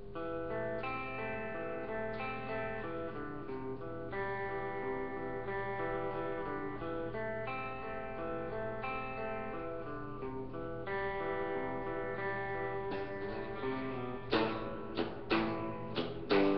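A song chorus section with sustained layered instruments and chords runs steadily, closing with a short plucked lick that links it to the next part; no voices over it.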